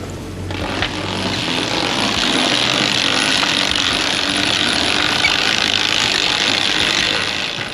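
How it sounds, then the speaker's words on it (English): On a sailboat, the mainsail drops out of its lazy bag and is hauled up, making a loud, continuous ratcheting and rushing clatter of winch and rigging. It is close by and lasts several seconds without pause. "I'll just drop the sail out of the lazy bag"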